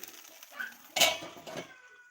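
A metal lid is set onto a pan of ponganalu batter, a single close clank with a short ringing rattle followed by a softer settling knock, then quiet.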